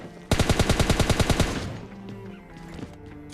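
Rapid automatic gunfire in the mobile game PUBG Mobile Lite, a loud burst of about fifteen evenly spaced shots lasting just over a second, followed by fainter scattered game sounds.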